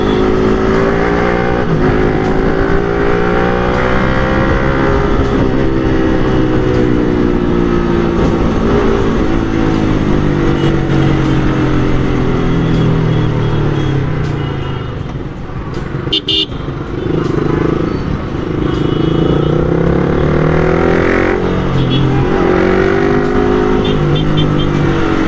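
A motorcycle being ridden fast and rough on a road through traffic, with a continuous loud engine roar that rises and falls. A horn toots sharply about two-thirds of the way through, and voices are present.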